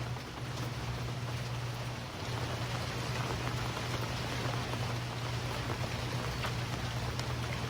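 Steady rain hisses over everything, dense and even, with a low constant hum running underneath and no voices.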